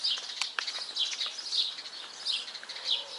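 Small birds sing and chirp among trees near the sea on a hot day, a steady mix of high twittering calls, moderately near, with no one talking.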